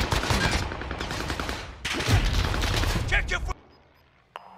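Rapid automatic gunfire rattles in Call of Duty: Warzone, loud dense bursts filling most of the moment with a short break, then cutting off abruptly into near silence with one last sharp shot.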